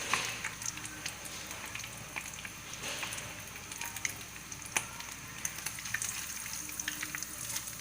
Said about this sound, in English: when you put it in the oil, it may start spluttering.